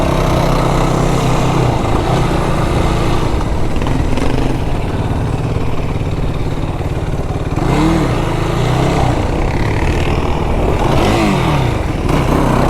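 A stock 2025 Yamaha YFZ 450R quad's engine roars steadily and loud on sand dunes, revving and pulling through tight sections with shifting pitch, close and continuous without pause.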